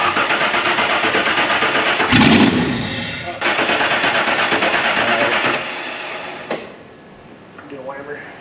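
A Land Rover Discovery G4, a barn find, cranks and catches, its engine settling into a loud, steady running rumble before cutting off, with a clunk and fainter noises afterward.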